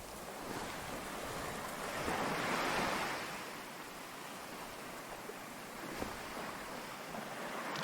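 Surf washing onto Castle Rock Beach in Western Australia, a steady broadband rush of waves with a gentle swell in the middle, wind buffeting the microphone throughout and no voices.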